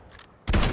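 An open-bolt gun fires in the Fortnite video game as one sudden, loud burst of shots that breaks in after a short quiet stretch and continues to the end.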